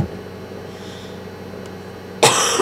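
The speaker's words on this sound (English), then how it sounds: "that's why I'll be coughing some" A single sharp cough from a person with allergies bursts out near the end after a stretch of quiet room tone.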